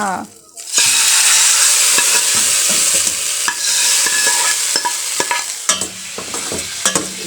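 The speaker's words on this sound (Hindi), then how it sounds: "अब ये हमारे आलू के सालन में तड़का" Loud, steady sizzling as hot oil tempering is poured into a potato curry in a pan, a continuous crackling hiss with occasional clinks of a spoon.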